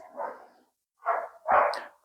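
Big dogs bark in three short, muffled bursts, the first alone, then two close together, sounding somewhat distant against otherwise quiet surroundings.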